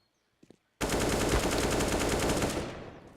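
Automatic gunfire in Counter-Strike: Global Offensive during an ESL UK Premiership playoff match, a few faint clicks and then a dense, loud burst of rapid shots lasting nearly two seconds before it cuts off.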